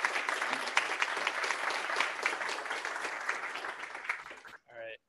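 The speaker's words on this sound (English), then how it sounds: "Let's give Andrew a round of applause." Sustained round of audience applause after a GraphQL talk, dense steady clapping for about four and a half seconds before stopping abruptly, with a brief voice speaking right at the end.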